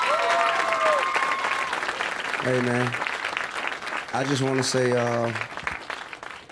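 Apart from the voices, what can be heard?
audience applause for T.I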